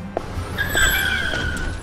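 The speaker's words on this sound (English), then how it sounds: "Why did this car come from the right?" A cartoon car pulls up from the right and skids to a stop, its tires screeching in a long, bright squeal layered over a low engine hum, fairly close.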